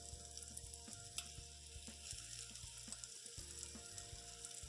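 Syrniki fry in oil in a pan with a steady close crackling sizzle, with soft occasional pops and light scraping throughout and no voices.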